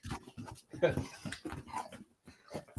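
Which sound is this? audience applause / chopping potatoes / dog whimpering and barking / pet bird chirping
dog whimpering and barking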